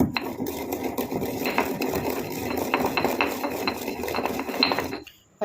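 An ingredient for a homemade skin-care powder being ground by hand into fine powder, heard as close, rhythmic scraping and grating strokes in a steady run that stops abruptly just before the end.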